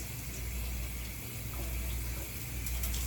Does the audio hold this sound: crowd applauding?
no